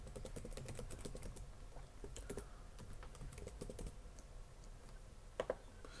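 Someone types on a computer keyboard in a quick, irregular run of close, crisp keystrokes, with short pauses between bursts and no talking.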